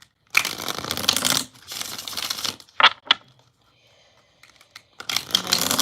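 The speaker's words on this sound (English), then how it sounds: "I'm going to do 3 shuffles here" Tarot cards being shuffled in three bursts of riffling and flicking, close up, with a few soft taps and brief pauses between.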